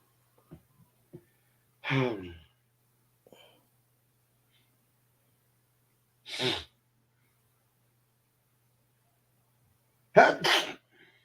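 Three sharp, close sneezes spaced several seconds apart in an otherwise quiet room, with a couple of faint clicks early on.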